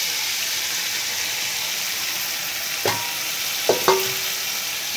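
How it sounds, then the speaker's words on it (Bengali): A pan of onions fries with a steady hiss, then chicken goes in, marked by a couple of brief knocks and clatters against the pan over the continuous sizzle. "এবার আমি চিকেনটাকে দিয়ে দেব।"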